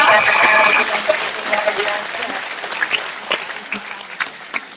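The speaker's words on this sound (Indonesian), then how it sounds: "Saya minta tepuk tangan dulu masyarakat" An audience at an Islamic religious lecture breaks into applause, loud and dense at first and then thinning into scattered claps, with a voice over a loudspeaker heard alongside.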